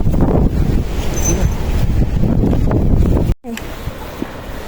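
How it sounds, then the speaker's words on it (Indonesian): Strong wind gusting on a mountain hiking trail beyond the third post, a steady loud roar buffeting the microphone, then a brief dropout before a quieter, more sheltered stretch. "kami pun melewati angin besar dengan bergandeng tangan"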